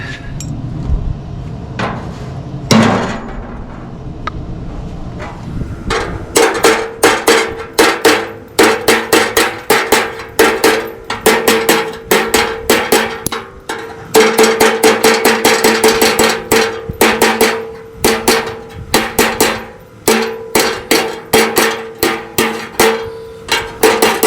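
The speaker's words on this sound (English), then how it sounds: "Need to get a hammer and dolly." Rapid metallic hammer blows ring out in long bursts, sharp and loud, striking hot rod body sheet metal against a dolly with brief pauses between runs.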